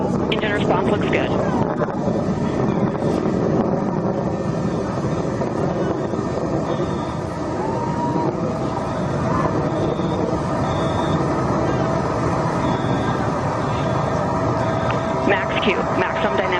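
A Blue Origin rocket engine roars through launch and climb on an all-women space flight, throttling down for max Q. The rumble is loud, broad and steady throughout, with no break.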